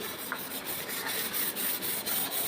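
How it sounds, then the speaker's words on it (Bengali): Kerosene being rubbed over a greasy, oil-spattered kitchen chimney: a steady, close scrubbing hiss with faint rhythmic strokes and no voices. "এটাকে এই কেরোসিনের সাহায্যে ঘটপট হয়ে যাবে পরিষ্কার একটু ঘষে দিলেই"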